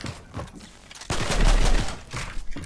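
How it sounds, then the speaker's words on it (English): Gunfire in the Fortnite video game: a quick burst of rapid shots erupts midway, then a few scattered sharper pops follow, moderately loud against quieter game ambience. "No, why did my gun shoot?"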